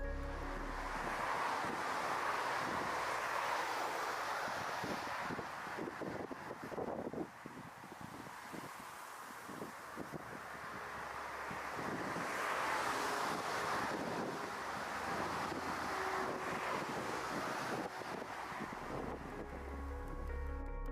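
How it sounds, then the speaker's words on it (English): Powerful crosswind from Cyclone Xavier batters a landing airliner, a constant loud roar of wind buffeting that swells and dips a little throughout, with no voices. "powerful crosswinds brought on by Cyclone Xavier smashed into the plane"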